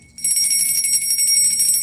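A bright notification bell chimes once and rings on with a sustained metallic shimmer, clear and close with no talking.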